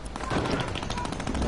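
Rapid gunfire from a Roblox shooter game, a dense burst of shots fired in quick succession for about a second and a half, loud and continuous.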